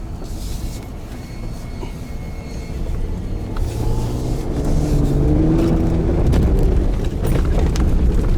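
A big Ram pickup truck carries passengers over jumps on a state fair ride, a heavy rumbling engine and rattling body growing louder and rougher as it bounces along, with no talking.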